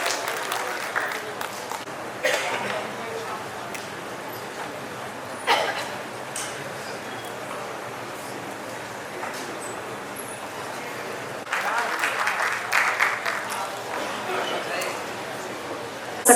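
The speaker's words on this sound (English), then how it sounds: "एक बार तालियों के साथ हम सभी उनका इस्तकबाल करते हैं यहाँ" An audience at an awards ceremony stage event breaks into scattered bursts of applause to welcome a guest, moderately distant claps rising in several waves under a hall's background murmur and traffic-like rumble.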